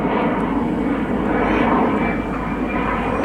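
A single-engine twin-boom de Havilland Vampire FB52 jet with a Goblin turbojet flies past at an airshow, a steady, loud broadband roar sustained throughout without voices.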